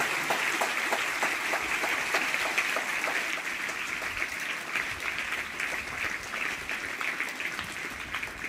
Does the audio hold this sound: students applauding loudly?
yes